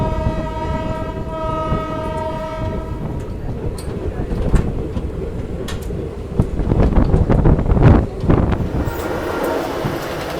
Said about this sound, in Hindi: चलिए 5 मिनट होल्ड के बाद डिपार्चर हो चुका सीता माता की जन्मभूमि यानी बिहार के सीतामढ़ी जंक्शन से।